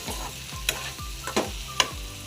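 A spoon stirs and mashes spiced eggplant frying in a pan, rhythmic close scraping strokes about twice a second over a soft sizzle, with a few sharper clinks against the pan.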